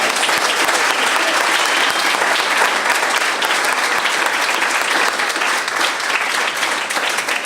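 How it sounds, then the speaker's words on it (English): Loud, dense applause from a crowd after a casual science talk held in a bar setting, continuous and even from start to finish with no break. "let's give her a round of applause"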